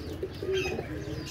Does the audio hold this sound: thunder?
no